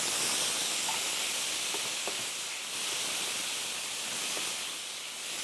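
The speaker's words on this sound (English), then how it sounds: "I'm going to put a tablespoon or 2 of stock in there." Stock poured into a hot skillet, giving a steady loud hiss of steam and sizzle that holds throughout with faint ticks underneath.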